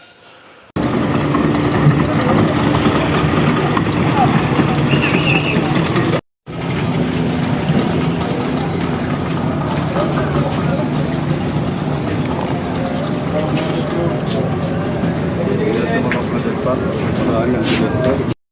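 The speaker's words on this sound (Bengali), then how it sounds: "এগুলো হচ্ছে স্পিড বোট এগুলো বরিশাল থেকে মাত্রই ভোলা আসলো" Speedboat engines drone steadily at Bhola's Bheduria ghat, a continuous loud motor rumble with a brief cutoff partway through, with people talking over it.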